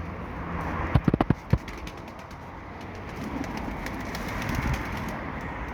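Soft cooing of Mardin white pigeons murmurs over a steady outdoor hum, with a quick burst of sharp clicks or flapping near the start.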